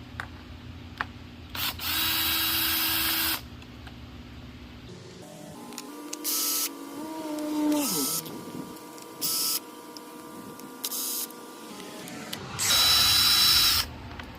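A power driver removes T20 Torx screws from the grille of a 2021 Jeep Wrangler JL diesel, with repeated loud close whirring bursts, one longer run that winds down in pitch, and clicks between them.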